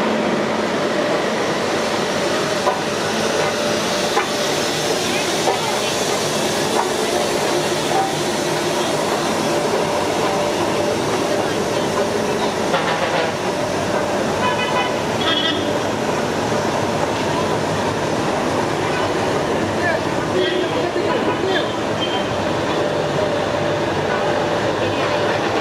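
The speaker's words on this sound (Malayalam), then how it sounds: "സ്റ്റീം എഞ്ചിൻ അവിടെ നിന്ന് വരുന്നുണ്ട്" A Nilgiri Mountain Railway steam engine shunts at a station, a continuous close rumble and hiss of the locomotive carrying steadily through the whole stretch without a break.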